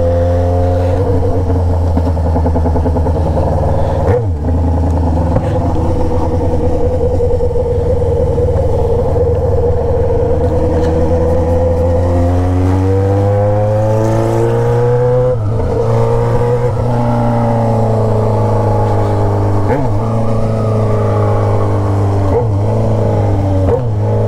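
A Yamaha XJ6 motorcycle fitted with an Atalla 3-inch straight-pipe exhaust revs loudly and close for the whole stretch, its deep raw roar climbing and falling through repeated throttle blips.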